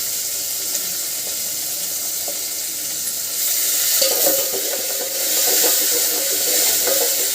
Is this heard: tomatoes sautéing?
yes